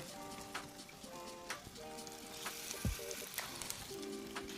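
Chicken thighs sizzle skin side down in a hot skillet, a steady close crackle and hiss that runs throughout, with a few brief sharper pops.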